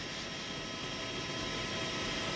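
A helicopter hovers above a Giro d'Italia 2014 stage 2 road race, giving a steady, broad rotor-and-engine drone that stays even and fairly distant throughout, with no voices.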